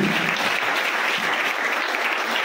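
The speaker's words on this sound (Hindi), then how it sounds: "हम प्रभु के लिए ताली बजाएंगे।" Steady congregational clapping at a Friday youth worship gathering, a dense, even wash of many hands sustained throughout at moderate loudness, with no voices rising above it.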